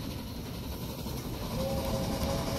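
Steady rumbling rail noise of a train rolling along track in the Railway Empire game, a continuous low roar with a faint thin whistle-like tone entering partway through, loud and alone.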